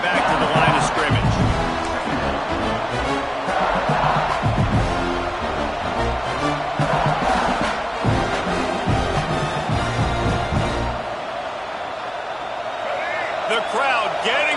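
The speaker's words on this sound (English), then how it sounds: "The crowd getting behind this defense as they try to get a stop in the red zone." Stadium crowd at a football game between DSL and Georgia roars steadily behind the defense during a red-zone stand, a dense sustained cheer with scattered whoops under continuous play-by-play commentary.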